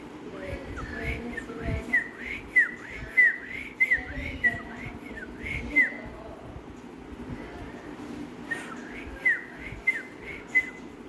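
A baby cockatiel whistles in quick series of short, rising chirps, repeated in two bursts and fairly close, over a low background murmur.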